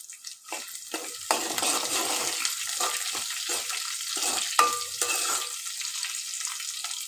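Chopped onion and crushed garlic frying in a pan, a broad hissing sizzle that swells as the pieces are stirred, with repeated scraping strokes, close and loud, no speech.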